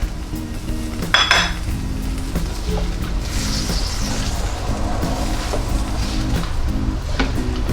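Stir-fried squid is scooped from a hot pan into a serving bowl: a clear metal clank of the utensil, then soft scraping over a continuous low hum, up close with no talking.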